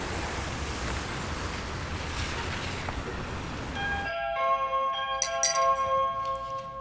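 A doorbell chimes indoors in a dramatic scene, a series of clear bright ringing tones repeating over a few seconds after a stretch of broadband noise, fairly close and loud.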